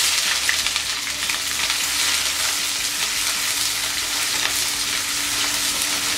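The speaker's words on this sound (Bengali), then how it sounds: "পেঁয়াজটা বাদামি করে ভেজে নেব।" Chopped onions fry in oil in a pan for chicken tehari, giving a loud, continuous sizzle with a faint crackle that holds steady throughout, with no voices.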